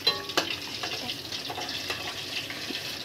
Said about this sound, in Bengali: আমার মাছগুলো হালকা করে আমি দুনো পিঠ ভেজে নিয়েছি, এখন আমি নামিয়ে নেব